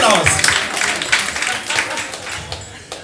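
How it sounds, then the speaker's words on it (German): Audience applause fills a live discussion event in an academy hall, a dense burst of clapping that thins and tapers over a few seconds, with scattered individual claps near the end. "einen herzlichen Applaus für das Eis."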